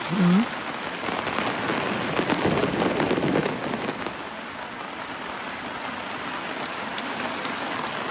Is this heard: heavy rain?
yes